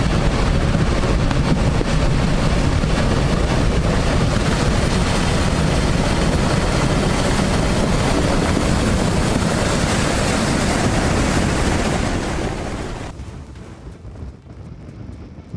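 Strong ocean waves crash against a coastline in a loud, continuous roar mixed with buffeting wind on the microphone, then drop away abruptly near the end.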